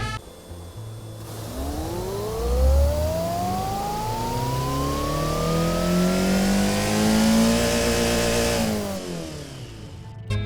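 A video game car's engine, a twincharged 4.5-litre sedan in BeamNG, revs up hard at full throttle, its pitch climbing steadily for several seconds before cutting off, loud and close with no talking.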